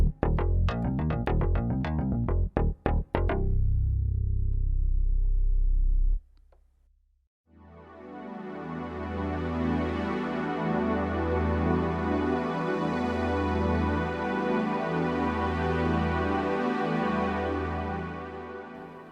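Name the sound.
Korg Opsix mkII FM synthesizer playing pad sounds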